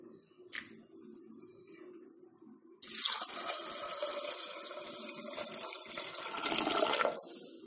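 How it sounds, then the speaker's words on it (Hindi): Two cups of water pour steadily into a pressure cooker holding wheat, a continuous splashing rush that begins after a few faint knocks and runs for several seconds before stopping. "और अब डालेंगे 2 कप पानी।"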